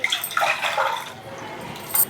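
Water pours and splashes briefly into a pot, a short gushing sound that tapers off, then a faint splash at the end.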